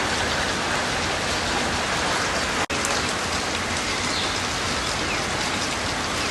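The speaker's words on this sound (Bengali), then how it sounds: "এখানে অনেক বৃষ্টি হচ্ছে সকালবেলা" Heavy morning rain in Cox's Bazar falls as a dense, steady hiss of drops drumming on surfaces, loud and unbroken apart from one brief click.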